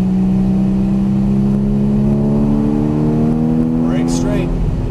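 An exotic sports car's engine drones and rises steadily under light throttle on a racetrack, loud and close inside the cabin, with a brief high squeal near the end.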